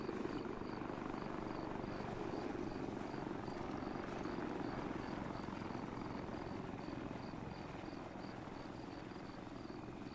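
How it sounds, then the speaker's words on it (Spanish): A helicopter approaches in the Arma 3 military game with a continuous, moderately loud rotor drone and a faint rhythmic chirping above it that holds steady for about ten seconds, with no voices. "Vamos a esperar el helicóptero a ver si cambia algo."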